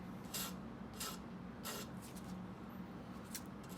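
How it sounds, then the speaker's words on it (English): A metal wire for a bow fibula is hand-sanded with 320 grit sandpaper and rotated between the fingers. Close, soft rasping strokes repeat in an uneven rhythm, about five passes in a row. "I'm just rotating this wire in between my fingers as I sand."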